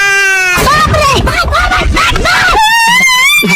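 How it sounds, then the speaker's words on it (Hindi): A cartoon dog lets out loud, strained wailing screams in repeated rising and falling bursts, followed by higher drawn-out cries, with a music-like tone before them. "वापस अंदर आते ही ये बिल्ला इसकी चीखें निकाल देता है"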